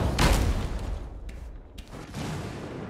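Fireball spell explosion in the video game Dungeonborne: a loud booming blast at the start that rolls into a rumbling tail, with a second burst of rumble near the end.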